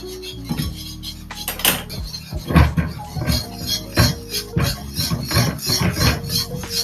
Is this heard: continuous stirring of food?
yes